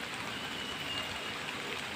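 Steady rain falls at a coconut and jackfruit tree-felling site, a soft, even patter and hiss holding for two seconds with no voices.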